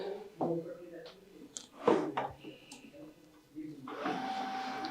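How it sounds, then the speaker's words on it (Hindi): HP LaserJet 1136 printer starting up after power-on, with scattered mechanical clicks and whirs, a brief clatter, then a steady motor hum as it initializes, with someone speaking intermittently over it. "देखिए प्रिंटर हमारा इनिशियलाइज होना शुरू हो गया।"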